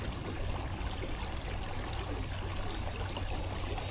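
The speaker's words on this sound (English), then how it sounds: "Look how the water goes into this lake." Floodwater from a swollen creek pours over a small dam into a lake, producing a steady, moderately faint rushing wash with no voices.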